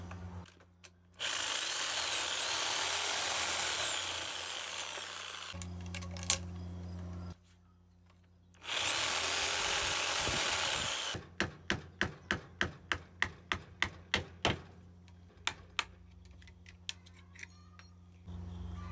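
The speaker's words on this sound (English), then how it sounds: "Let's start with this flexible gas hose, cut these brass ends off." Brass ends cut off a stainless flexible gas hose with a power tool, loud sustained bursts of grinding or cutting, then a rapid run of sharp metallic clacks and jangles, with no talking.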